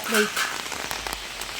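Heavy rain pours steadily at a home in Kerala, a soft, even hiss of water on surfaces, with a brief voice heard near the start.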